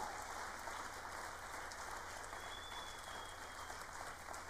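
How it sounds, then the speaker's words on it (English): Audience applause for program directors at an outdoor and environmental education 50th anniversary celebration, a steady, dense wash of clapping that fills the room without pause, fairly quiet in level. "Can you give them a huge big round of applause"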